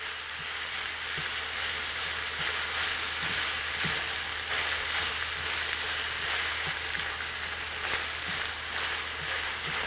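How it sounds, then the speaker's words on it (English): Carrots and peppers sizzling in a hot pan as lime juice is stirred in, a steady close frying hiss with faint scraping stir sounds and no talking. "We're just going to stir this in."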